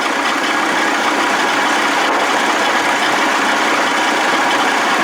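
A 1979 Evinrude 55 hp outboard motor runs steadily, a loud, close, continuous engine drone with no pauses.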